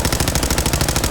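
Rapid, evenly spaced gunfire from a recoil-compensated drum-magazine gun in Fallout 4, with a very fast fire rate. Shots fire in a steady unbroken burst, loud and close with no talking.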